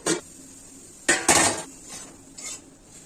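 A metal lid clanks onto a cooking pan of fenugreek greens, giving a sharp knock, then a couple of quick rattling clatters and a lighter tap as it settles, close and alone.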